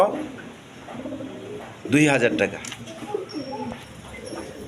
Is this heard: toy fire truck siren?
no